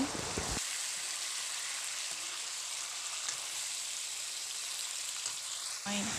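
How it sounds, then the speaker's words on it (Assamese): Duck meat fries with browned onions in a pan while being stirred, a dense steady sizzle with occasional soft spoon scrapes, close and even throughout, with no talk. "পিয়াজখিনি এতিয়া ৰঙা হৈ গৈছে মই মাংসখিনি দি লৈছো আৰু লৰাই আছো"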